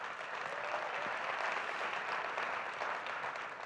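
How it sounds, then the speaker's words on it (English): An audience at an Intel business presentation gives a steady, even round of applause, a continuous wash of many hands clapping at moderate distance with no talking over it. "please give them a round of applause"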